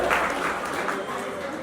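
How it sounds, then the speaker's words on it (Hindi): Dense crowd applause at a Jain temple festival in Agra with a chariot procession, a steady continuous clatter of many hands, loud and full throughout the short stretch. "जोरदार तालियां बजाइए, बहुत सुंदर।"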